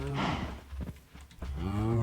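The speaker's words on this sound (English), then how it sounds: "the herd of cows I am pulling right now" Minecraft cows in a herd being led toward a barn moo repeatedly at close range, two long drawn-out lowing calls at the start and end with fainter overlapping moos between, no talk.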